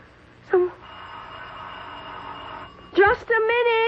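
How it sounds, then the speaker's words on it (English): A doorbell rings in a radio drama with a sustained, steady electric ring lasting about two seconds, framed by brief voice sounds before and talk right after. "who could be ringing the bell at this hour?"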